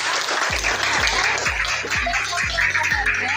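A classroom of students claps together in rhythm, a dense, fairly loud applause with regular beats about every half second, close and without talk.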